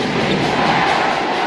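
A basketball crowd at a FIBA Asia semi-final between the Philippines and South Korea at the Mall of Asia arena, a dense, loud, continuous roar of massed voices chanting without clear breaks.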